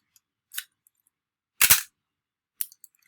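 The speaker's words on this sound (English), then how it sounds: "what you're actually hearing is the sound of the reflex mirror moving up and down" Three separate mechanical clacks from an SLR camera as its reflex mirror flips up and down with the shutter firing at slow speeds, sharp, close and isolated against silence, the middle one loudest and fullest.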